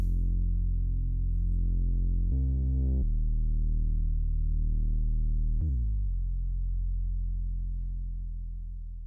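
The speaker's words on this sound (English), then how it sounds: "I use the bass from Trillion. It gives it more depth." A deep synth bass from Trilian's TR-ATC Creamer preset plays sustained low notes, one brief jump higher mid-phrase, then a sharp attack and a wobbly downward pitch bend that settles into a long, fading drone, heard alone.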